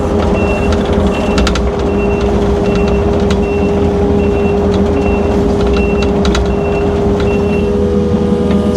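An International 4300 truck sits running with a loud, constant engine rumble while its reversing alarm beeps in an even repeating pulse over the top, close by, with no talking.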